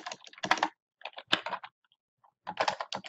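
Bursts of rapid keystrokes on a computer keyboard, typed in quick clusters with short pauses between them, close and clear with no talking.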